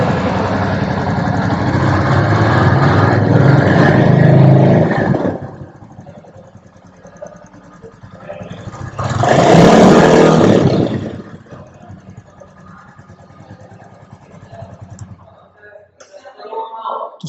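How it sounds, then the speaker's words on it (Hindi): A 2021 Royal Enfield Classic 350 motorcycle engine rumbles loudly for a few seconds, drops to a low idle, then gets a second short rev before settling back to a quiet idle, with some talk in between. "चलिए थोड़ा सा रेव करते हैं इंजन को।"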